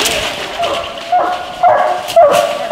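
Coonhounds bark at a treed raccoon during a coon hunting competition in Louisiana, sending out several loud, close bawling yelps and whimpers that come in separate bursts over a steady background hum.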